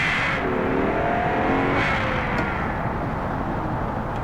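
A manual-transmission car accelerating in a driving video game, its engine note climbing in pitch as it revs, then settling into a loud, steady drone.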